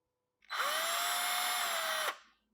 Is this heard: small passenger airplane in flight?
no